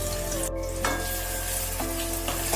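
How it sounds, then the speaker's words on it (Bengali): Chopped onion hisses and sizzles loudly in hot mustard oil in a kadai, a steady close-up frying crackle with brief stirring scrapes. "সর্ষের তেল গরম হয়ে গেছে, আমি কেটে রাখা পেঁয়াজ এর মধ্যে দিয়ে দিলাম।"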